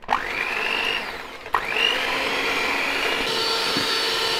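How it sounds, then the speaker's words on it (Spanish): Electric hand mixer beating eggs and yogurt for a tres leches cake, a loud, close, high whirring motor that spins up, stops briefly and restarts, then runs steadily, with no talking. "Ahora vamos a batir hasta doblar el volumen."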